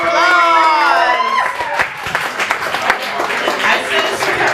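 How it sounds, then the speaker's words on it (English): Poetry slam audience at an arts bar bursting into applause and cheers, loud close clapping and whoops following a brief sustained tone at the start, continuing busily to the end. "Another round of applause."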